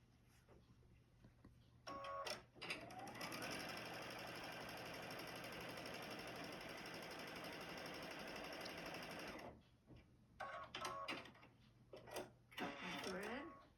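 A sewing machine runs in one steady burst of about seven seconds, stitching quilt block pieces together. Shorter whirring bursts and the clicks of handling the fabric come before and after it. The machine is close and fairly loud, and a person speaks faintly in the room.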